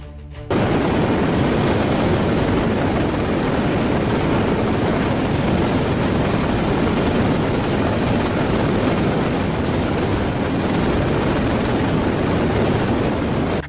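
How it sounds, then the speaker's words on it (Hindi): An HAL Light Combat Helicopter flies among mountains in Ladakh, giving a loud, steady rotor and engine roar that starts abruptly and holds unbroken throughout, with no voices. "ये HAL का लाइट कॉम्बैट हेलीकॉप्टर है।"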